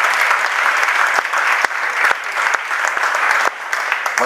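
A church congregation applauds the Lord, a dense, loud, continuous clapping with a few sharper individual claps standing out.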